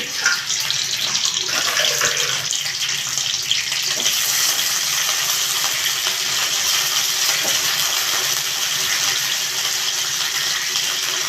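Green chillies sizzle in a hot pan, a continuous loud crackling hiss with occasional spatters, heard alone.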